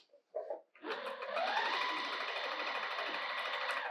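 Sewing machine quilting a fabric bag, a steady, close motor whir with fast needle chatter that starts after a few brief handling noises and runs on evenly, with no talking.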